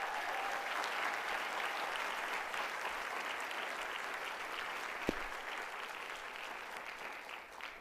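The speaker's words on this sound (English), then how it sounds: "Let's give them another round of applause." Sustained applause fills a convocation ceremony from start to finish, a dense, steady wash of many hands clapping in a large audience, fading slightly at the very end.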